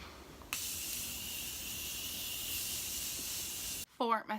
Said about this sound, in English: so I'm going to use the Morphe spray.